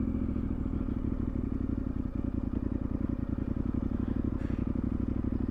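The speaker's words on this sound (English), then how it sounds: "It feels like the engine should be stalling or chugging along, but it doesn't." Motorcycle engine at low revs climbing a dam bank, a steady close throbbing chug with dense rapid pulsing and light clatter from the bike, continuous throughout with no speech.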